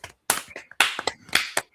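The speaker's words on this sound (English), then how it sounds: "You get a round of applause over from the table." Players seated around a tabletop role-playing game give a short round of applause, a few quick bursts of clapping and tapping close by that last under two seconds.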